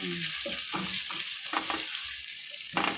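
Mussels frying with ginger in a hot pan are stirred, giving a constant sizzle broken by repeated scraping strokes of the utensil at an uneven rhythm, close and clear with no talking.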